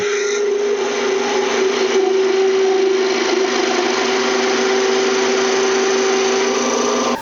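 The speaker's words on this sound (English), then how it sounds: "With this planing cut, I can reduce that diameter and I get a nice smooth finish." Skew chisel taking a steady planing cut along a spinning workpiece on a wood lathe, a continuous loud whirring hum with a strong tonal whine and bright cutting hiss lasting throughout, no voices.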